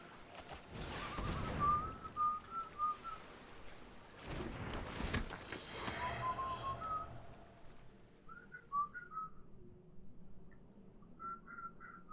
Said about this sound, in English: I whistle weird because I had nerve damage